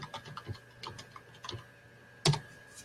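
Sparse keystrokes on a computer keyboard, faint and irregular clicks with one sharper tap near the end, heard alone in a quiet room.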